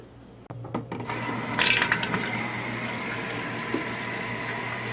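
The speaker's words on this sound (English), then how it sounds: "the first thing I'm going to do is fill up this pot with water" Water running steadily into a steamer pot at a campfire cooking setup, starting after a few knocks and clatters and then pouring continuously and fairly loudly up close.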